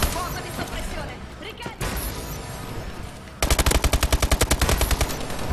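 Rapid automatic gunfire in Call of Duty Advanced Warfare, with scattered shots and background noise at first, then a loud, evenly spaced burst of close machine-gun fire.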